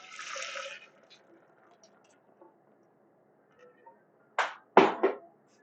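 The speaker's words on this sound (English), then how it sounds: "Bringing this hot soup in, pouring it right back into here." Hot keto New England clam chowder gets poured back into a pot at a kitchen counter, heard as a brief splash at the start and then a couple of louder liquid glugs and slops near the end, close by.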